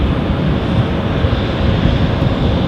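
A Boeing 737 airliner at Düsseldorf airport, a loud, steady broadband jet roar with wind buffeting, continuous and close throughout the short stretch.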